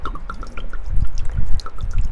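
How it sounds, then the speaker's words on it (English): Wine pours into a cooking pot in a kitchen, giving a short, close trickle with light splashing and dripping for about two seconds. "I love the sound of wine being poured into a glass"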